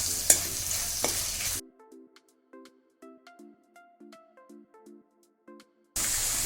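Corn and peas frying in a pan with other vegetables, sizzling steadily while a spoon stirs through them, the scraping strokes coming in an uneven rhythm, close and clear after a loud opening burst.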